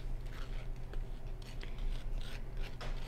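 Soft, close scraping and rasping as the inside of a sugar skull is hollowed out by hand, a gritty rubbing repeated in short strokes over a low background hum.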